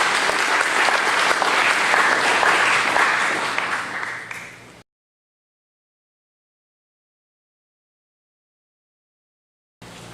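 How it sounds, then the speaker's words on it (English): Audience applause fills a hall at a candidates and issues forum, with a dense wash of clapping that fades out after a few seconds, followed by silence and a brief return of sound at the end. "Round of applause, please."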